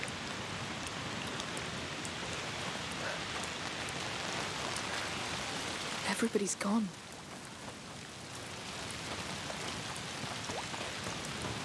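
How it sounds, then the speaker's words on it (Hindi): Steady rain falls in the video game A Plague Tale: Requiem as an even, soft hiss, with a brief spoken line partway through. "बारिश हो रही"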